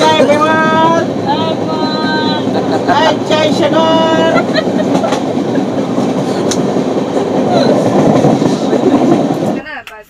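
A Kamrup Express passenger train running on the tracks near Katwa, heard from inside with a loud, steady rumble and rattle, faint rhythmic clatter, and a brief tonal squeal early on, before the sound drops away abruptly at the end.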